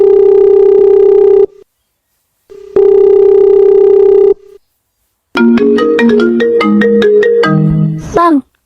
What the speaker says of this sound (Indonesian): Bang, ada telepon bang.